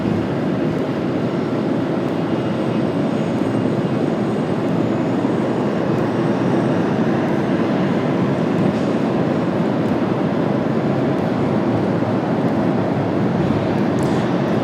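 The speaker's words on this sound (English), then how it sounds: "here comes BA. 777-200 for British." A British Airways Boeing 777-200 jet at Washington Dulles on a cloudy day, a loud, steady, broadband engine roar that holds evenly throughout, with no voices over it.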